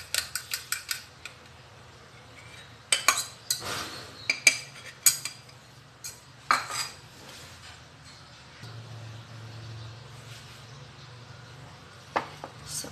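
A spoon scrapes and clinks against a bowl in bursts of quick strokes as hot cake batter with sugar and eggs is stirred, close and fairly quiet.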